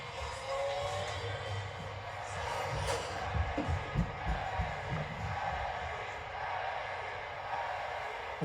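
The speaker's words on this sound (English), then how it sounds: "This crowd has been wild all night" A wrestling crowd at a night show roars and cheers in a continuous, boisterous wash of voices, with scattered shouts and whoops rising out of the din; talk is mixed into the noise.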